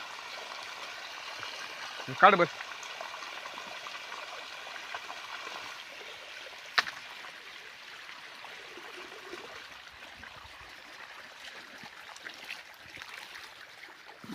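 Water trickles and gurgles steadily from a pipe on an uphill farm plot, faint and continuous, while people talk quietly nearby.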